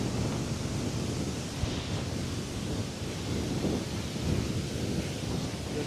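The Bhoot Chhanga waterfall in Sindhupalchok roars as a dense, constant wash of loud rushing water, heard close and alone with no talk.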